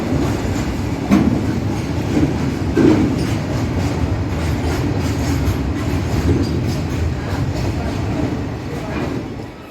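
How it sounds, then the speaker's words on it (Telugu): Goods train at Nellore railway station, platform number 1, a steady loud rumble of rolling wagons with clickety-clack wheel beats and occasional metallic squeals, continuous throughout, with faint voices underneath. "ప్రజెంట్ అయితే గూడ్స్ ట్రైన్ పెట్టినాడు."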